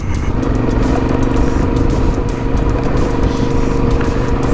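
Motorcycle riding over a gravel road in New Mexico, a loud continuous engine drone mixed with crunching and rattling from the loose stones, steady throughout.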